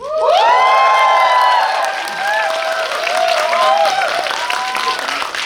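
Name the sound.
audience cheering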